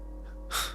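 A single short, sharp gasping breath from a dark figure in a horror story, close and brief, rising out of a quiet, humming background.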